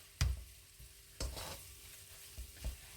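Rice and vegetables being stir-fried in a single pan, with a few sharp tossing clatters over a low, continuous sizzle. Close and fairly quiet, and no voices.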